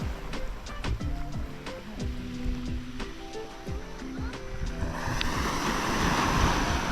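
Gusty wind buffets the microphone over steady Pacific surf at a pebbly beach in Dingalan, Philippines, with scattered thumps and a broadband roar that grows louder toward the end.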